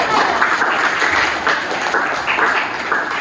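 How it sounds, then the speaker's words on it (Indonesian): Schoolchildren in a physics classroom clap for a classmate, a loud continuous burst of close applause lasting a few seconds with faint voices mixed in. "Oke, luar biasa Naila, tepuk tangan."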